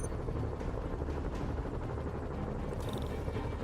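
Helicopter in Spider-Man on PS4, a steady dense rotor roar filling the scene with brief bursts of game effects over it, loud and continuous without speech.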